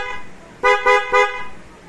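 A motorcycle horn gives three short, loud honks in quick succession over a low idle background.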